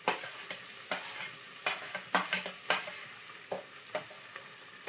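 Tomato, beans and chillies frying in a pan, with a soft steady sizzle under repeated sharp scrapes and clacks of a spoon stirring at an irregular pace, close by and fairly quiet.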